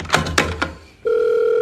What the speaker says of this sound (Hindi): जल्दी फोन उठा।